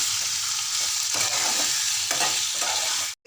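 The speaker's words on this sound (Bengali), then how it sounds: "আমি পনিরগুলো একটু ভেজে দিচ্ছি। অল্প জাস্ট একটু নেড়ে নেব।" Paneer sizzles in hot oil in a pan while being stirred, with crackling frying noise and bursts of scraping. No one talks, and the sound cuts off abruptly at the end.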